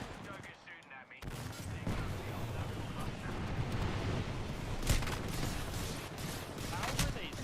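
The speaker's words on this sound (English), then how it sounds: "Look, I'm getting shot at." Dense video-game gunfire erupts after a brief quieter moment, a sustained loud barrage of rapid shots and bursts with a few sharper cracks standing out.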